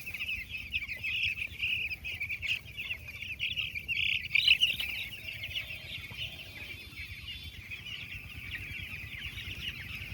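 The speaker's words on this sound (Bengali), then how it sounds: "7 দিনের মুরগির বাচ্চা এটা।" Week-old chicken chicks on a village poultry farm chirp continuously in a dense, high-pitched chorus, steady and close throughout with no talking.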